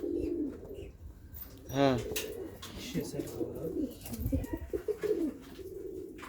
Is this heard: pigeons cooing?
yes